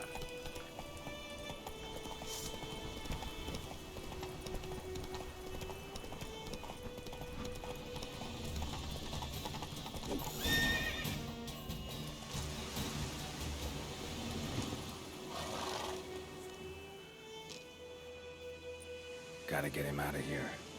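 Roach the horse gallops in The Witcher 3: Wild Hunt, with rhythmic hoof clip-clops running continuously under a man's spoken dialogue, plus a few louder bursts and a brief horse whinny.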